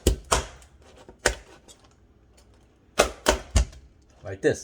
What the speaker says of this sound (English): Split the lobster tail in half. And then we're just gonna cut into little pieces.